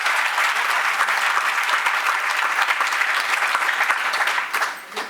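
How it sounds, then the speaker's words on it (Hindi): Guests at a Vedic awards ceremony give a loud, dense round of clapping that stays steady and close throughout, then thins and tapers off in the final half second. "आए हुए अतिथिगण से अनुरोध करती हूँ कि तालियों से आपका अभिनंदन करें।"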